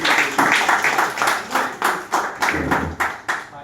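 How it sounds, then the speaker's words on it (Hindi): Audience clapping at a Teachers Day event, a steady run of fairly close hand claps with a rhythmic, pulsing pattern, heard alone without speech. "उनके लिए जोरदार तालियां देने से"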